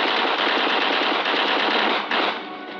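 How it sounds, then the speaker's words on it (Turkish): Rapid bursts of machine-gun fire crackle in a dense, continuous stream of sharp reports for a few seconds, then cut off abruptly into a quieter tail. "Önce silahlar patladı."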